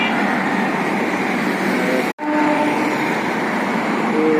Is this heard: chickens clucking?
no